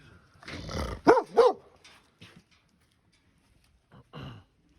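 A dog gives a few sharp barks mixed with a low growl, close by, followed by a shorter bark after a pause.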